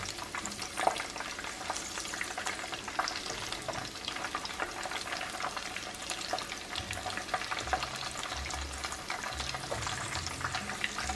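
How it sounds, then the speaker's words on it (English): Shrimp patties fry in grease in a pan, giving a steady, dense crackling sizzle with small pops throughout. The sound is close and even, with no voices. "It takes a while to form the patties and to get used to how to do it"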